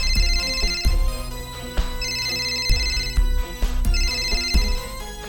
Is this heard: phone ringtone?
yes